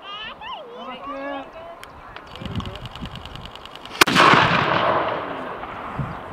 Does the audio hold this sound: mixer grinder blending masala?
no